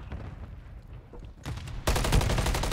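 Video game gunshots begin as faint scattered pops, then a loud, close burst of rapid automatic fire runs steadily to the end.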